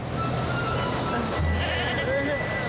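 Cartoon goats bleat over a busy animated soundtrack, a few short nasal cries mixed with music and effects while characters talk.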